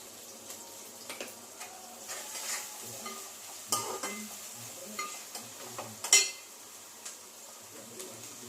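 Onions sizzling in a pan for a chicken curry, stirred with a utensil that scrapes and clinks against the metal now and then, close and steady with no talk.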